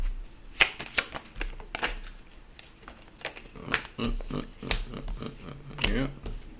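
Tarot cards are shuffled and drawn close up, giving a run of soft riffling taps and sharp snaps scattered through the stretch, with quiet room noise around them.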